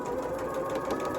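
A sewing machine runs continuously, stitching a quilt seam with a steady, close mechanical hum and rapid needle rhythm.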